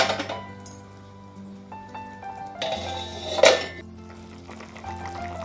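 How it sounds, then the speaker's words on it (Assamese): A lid is set onto a cooking pot of milk being brought to a boil for homemade paneer, a single sharp metallic clink midway amid faint kitchen clatter and low simmering. "এতিয়া অলপমান লৰাই আকৌ ঢাকন মাৰি থৈ দিম।"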